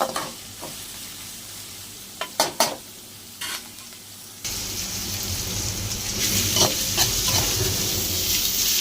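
Onions frying in a pan for an egg fry, first quieter with a few clinks and spoon scrapes, then a sudden louder steady sizzle with repeated stirring, close by.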